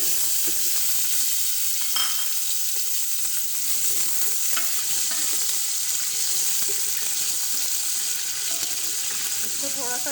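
Potatoes frying in a pot with whole garam masala, a steady loud close sizzle throughout with faint clinks of stirring, no voices.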